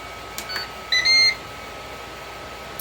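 A Ninja Foodi control panel beeps as it is set to sear/sauté: a couple of soft taps, then a short clear electronic beep over faint room hum.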